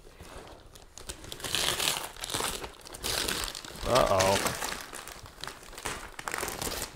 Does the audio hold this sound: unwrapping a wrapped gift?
yes